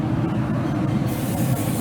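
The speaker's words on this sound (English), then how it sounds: "He's got a little Pam out there spraying down the grill grates." Pam cooking spray hisses steadily onto anodized aluminum grill grates outdoors, a continuous broadband spray lasting nearly two seconds at close range with no talking.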